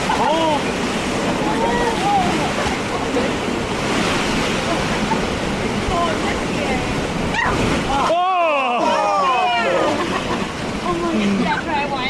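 Rushing, splashing water on the Roaring Rapids raft ride at Six Flags Over Texas, a steady loud churning wash throughout, with riders shouting and talking over it and brief excited cries near the end.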